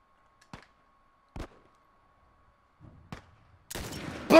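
Gunfire in The Last of Us: three sharp, isolated gunshots spaced about a second apart against near silence, followed by a burst of louder, noisier action sound at the end.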